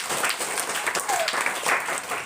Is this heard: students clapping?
yes